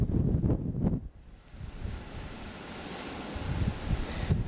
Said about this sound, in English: Oh, it is getting windy.